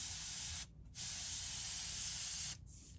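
An airbrush hisses steadily as it sprays paint onto a flat-sided Plopper fishing lure in turquoise and blue, close and loud, stopping briefly twice before the spray resumes.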